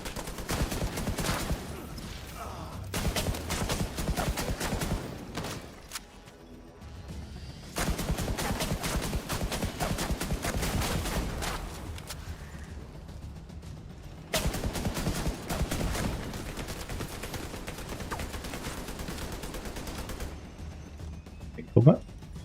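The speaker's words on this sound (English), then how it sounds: "There's people shooting you." Enemies in an Abyss video game mission fire repeated heavy bursts of automatic gunfire at the player, loud volleys separated by short pauses, with voices talking over the shooting and a sharp bang near the end.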